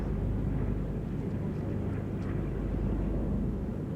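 A deep, steady roar of Pratt & Whitney radial piston aircraft engines droning continuously at an air festival, fairly loud and unbroken.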